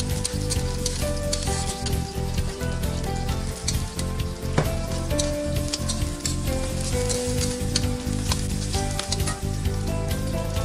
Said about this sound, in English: Stir fry the ginger, garlic and spring onion.